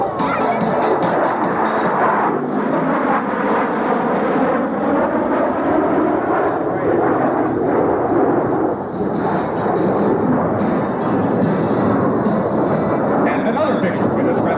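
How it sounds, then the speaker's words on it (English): US Air Force Thunderbirds F-16 jets making a formation pass in review at the 1993 Quonset Point air show, a loud continuous jet roar sustained throughout, with no clear speech. "From your right, your 1993 Thunderbird pass in review."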